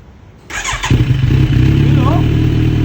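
A 2023 Kawasaki Z1000R fitted with a new single-canister Drift Xaust muffler fires up and settles into a loud, deep, steady rumble close by, with a voice audible over the start.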